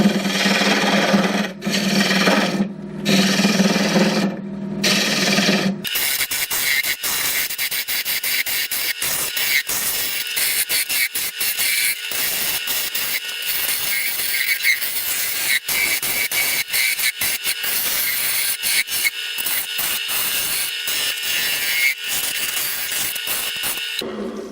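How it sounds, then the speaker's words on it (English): Wood lathe spinning a wooden rattle while a tool shapes its end, a few seconds of loud rough cutting bursts giving way to a continuous close scraping hiss with rapid fluttering texture. "Now I'm going to begin to shape the end of the rattle."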